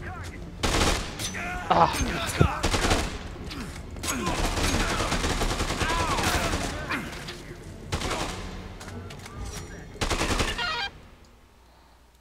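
Assault rifle fire in Dead Rising 2: repeated bursts of rapid automatic shots come in loud waves with short pauses between them, and a voice briefly exclaims.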